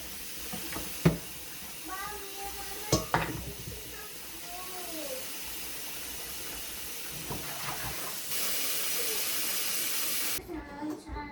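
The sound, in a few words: meat boiling in a pot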